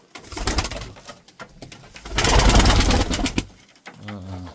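Loud, close pigeon cooing comes in bursts with handling noise between them and a deep throaty coo near the end.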